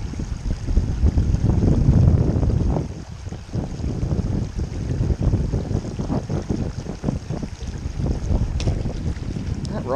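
Strong outdoor wind buffeting the microphone on a chilly trout-fishing outing, loud rumbling gusts peaking early then easing into steadier blowing, with faint water movement underneath.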